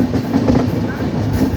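A Rajdhani Express train rushes past close by, its loud, continuous rumble and wheel clatter filling the whole moment.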